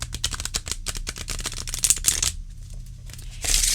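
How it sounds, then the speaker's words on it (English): Talisman Oracle cards are riffle shuffled face up, giving a fast rattling burst of card flicks, a brief pause, then a short final riffle, all close and crisp with no talking. "when you shuffle them, this way, they don't quite work, but if you riffle them face up"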